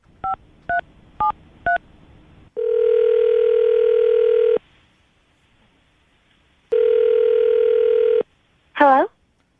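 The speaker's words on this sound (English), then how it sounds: "We're going to call her right now, see if we can get her on the phone" A telephone call being placed: four short touch-tone dialing beeps, then two long steady ringback tones separated by silence, followed by a brief voice on the line.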